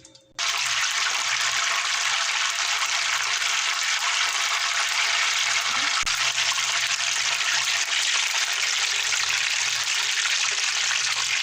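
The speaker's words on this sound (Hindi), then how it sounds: "चिकन को हमने अच्छे से फ्राई कर लिया है।" Chicken pieces deep-frying in about a kilogram of hot oil, a loud, steady broadband sizzle that starts abruptly and continues unbroken, with one faint knock midway; no talking.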